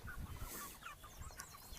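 Pastured chickens cluck softly on a farm, a faint, quiet stream of short clucks with no talking.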